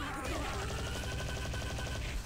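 An explosion attack in the PS2 game GioGio's Bizarre Adventure sounds as a loud, dense burst of rapid crackling blasts that runs unbroken for about two seconds and drowns out everything else.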